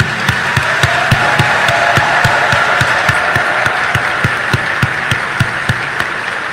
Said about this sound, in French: exprimer notre gratitude par ce tonnerre d'applaudissements